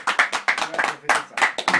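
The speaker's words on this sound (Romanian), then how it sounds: "Aplauze pentru Iasmina, cu toții!" A small crowd applauds for a newborn girl named Iasmina at a live performance in London, bursts of close, uneven hand claps rising and falling in quick waves with voices mixed in.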